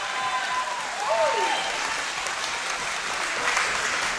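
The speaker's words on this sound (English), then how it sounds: "BTC fight fans, please put a big round of applause together for both of the fighters in this cage." A crowd at an MMA event applauds both fighters in the cage, a loud, continuous wash of clapping with some cheering, and brief voices rising through it early on.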